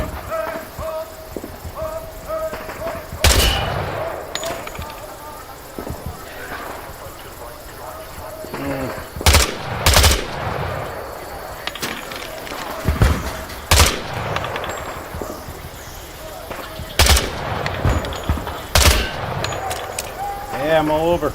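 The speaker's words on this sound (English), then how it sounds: "Shoot the targets ahead, aiming for the helmet to guarantee an instant kill." Scattered gunfire at targets in the Vietnam War shooter Hell Let Loose, single loud cracks spaced several seconds apart over a muffled background, with a voice speaking between the shots.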